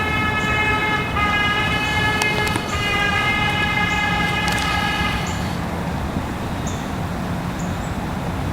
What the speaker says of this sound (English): Air horns blasted from a car multiple times, echoing across the woods